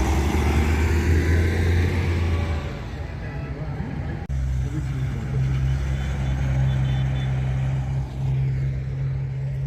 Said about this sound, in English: Some of the old transport buses as well have joined in